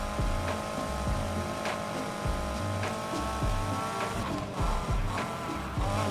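Racing car engine and exhaust in Need for Speed Heat, a loud continuous rumble with repeated gear-shift surges and a brief squeal near the end, with no talking.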